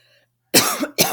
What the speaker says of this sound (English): I'm having a cough attack.